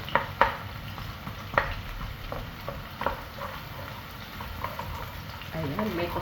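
Garlic and onion sautéing in a pan for beef giniling, a low steady sizzle with several sharp spatula taps and scrapes, and a hint of voice near the end.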